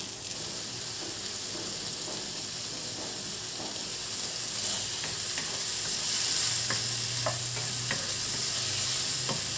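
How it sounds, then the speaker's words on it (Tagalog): Sliced chicken gizzard sautés in a pan, producing a continuous close hissing sizzle with scattered small crackles and occasional utensil scrapes, steady throughout and without talking. "Igisa lang muna natin yung ating chicken gizzard."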